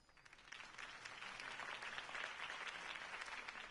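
A crowd applauds a campaign speech in the Batman Telltale game, steady dense clapping heard from a distance and holding without a break.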